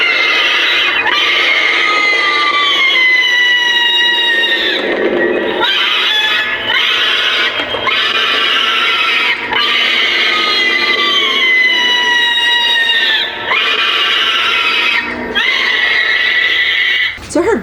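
A screaming Spirit Halloween animatronic decoration lets out a long, loud, piercing shriek that wavers and comes back in waves, with a few brief breaks.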